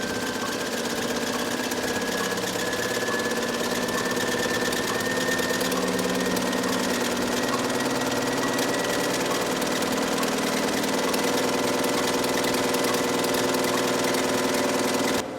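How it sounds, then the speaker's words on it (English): A cardiac circulation simulator hooked to a pericardial box runs, replicating heart function with a steady, continuous mechanical hum and faint rhythmic whirring that holds evenly throughout, with no talking. "we will hit begin circulation. At that point, the machine will replicate heart function."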